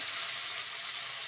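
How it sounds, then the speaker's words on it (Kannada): Onion frying in a little oil, a continuous bright sizzle held at an even level throughout, close, with no talking. "ಒಂದು ಸ್ವಲ್ಪ ಎಣ್ಣೆಯಲ್ಲಿ ಫ್ರೈ ಮಾಡ್ಕೊಬೇಕು"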